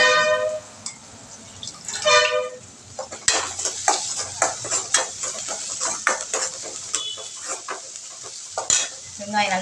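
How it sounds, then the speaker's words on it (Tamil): Onions sautéing in a pan, a steady sizzle of frying broken by repeated scraping and clinking of a spoon or spatula as they are stirred, close and fairly loud with no talk. "வெங்காயம் நல்லா வதங்கட்டும்."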